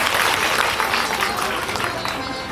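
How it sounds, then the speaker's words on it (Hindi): A large audience at a Hindu devotional katha gathering bursts into loud, sustained applause, dense and steady throughout, with faint voices mixed into the clapping. "सबके लिए एक बार जोरदार ताली बजाएं।"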